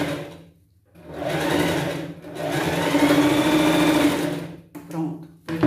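A sewing machine stitching a pet Cinderella dress costume runs in bursts, a short start, a pause, then a long steady whir of stitching before stopping, with brief further runs near the end. Someone speaks softly between runs.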